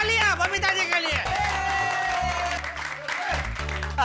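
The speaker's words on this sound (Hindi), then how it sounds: "जबरदस्त तालियां" Studio audience applause and cheering at a Diwali celebration in a comedy sitcom, loud continuous clapping with whoops, mixed under festive music and voices.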